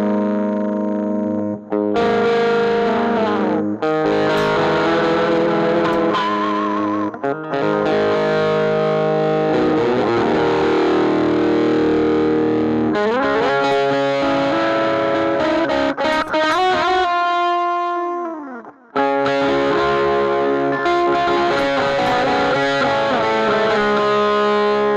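An electric guitar plays through a Way Huge Aqua-Puss MKIII analog delay pedal with the delay cranked up. Loud, distorted chords and notes carry repeating echoes and trailing swells, with one brief near-silent gap late on.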